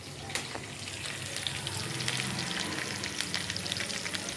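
Close, continuous crackle of a tempering with curry leaves frying in hot oil for tomato charu, with scattered sharp pops over a dense sizzle and no talk.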